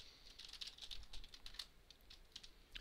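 Computer keyboard typing while editing text in vim, a steady run of quick, light key clicks close up, fairly quiet and uneven in rhythm with no voices.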